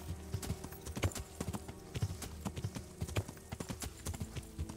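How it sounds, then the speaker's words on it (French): Horse hooves clip-clop in a steady, irregular rhythm close by in the video game Kingdom Come: Deliverance, with a low background hum and no voices. "Cheval."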